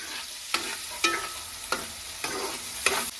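Chili garlic paste and chopped tomatoes fry in hot oil, a low sizzle broken by about five sharp scraping stirs at a regular pace, close and with no voices.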